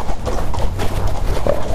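Racehorse hooves beat a steady, close clip-clop rhythm while being ridden out on a gallops, loud and continuous with no talking.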